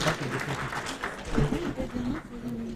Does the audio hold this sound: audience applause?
yes